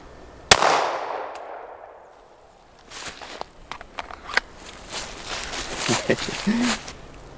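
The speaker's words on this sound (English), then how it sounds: "Okay, 9mm now. These are also Federal HSTs, 147." A 9mm pistol fires Federal HST 147 grain rounds: one sharp, loud shot with a long decaying ring, followed by faint rustling and handling noise.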